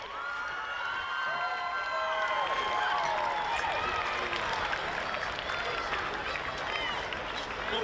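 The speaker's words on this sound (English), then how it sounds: "please, a warm round of applause for your 2025 FQPL 1 Women's Champions, Caboolture Sports FC" A stadium crowd applauds and cheers for the 2025 FQPL 1 women's football champions, Caboolture Sports FC, as they receive their medals after the grand final, with steady clapping and shouts sustained throughout alongside some voices.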